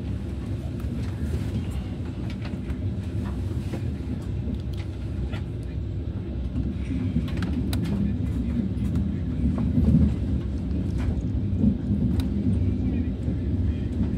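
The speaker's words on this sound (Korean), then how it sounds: "우리 열차는 잠시 후 익산역에 도착합니다" A KTX-Sancheon high-speed train on the Honam line pulling into Iksan station, heard from inside the carriage as a steady low rumble and rolling hum that swells slightly midway, with faint voices in the background.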